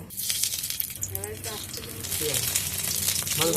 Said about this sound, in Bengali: এবার আমি এখানে কড়াইতে দিয়ে দিয়েছি তেল আমি এটাকে একটু ভেজে নেব